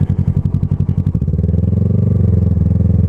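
Kawasaki ER6f Ninja 650 motorcycle ridden on a road, its engine loud and close, with a rhythmic pulsing chug that smooths into a steady drone as it pulls away.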